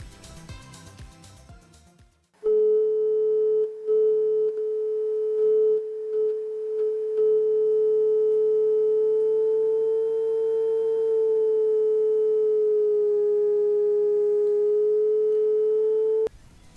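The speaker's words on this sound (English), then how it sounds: "finally let's do it again with the sine wave" A pure, steady electronic sine tone from an ICL8038 oscillator chip holds for many seconds after a few short blips and a burst of other tones, then abruptly stops.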